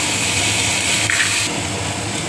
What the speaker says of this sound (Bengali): আর দিয়ে দিচ্ছি আমার ভিজিয়ে রাখা মটরগুলো।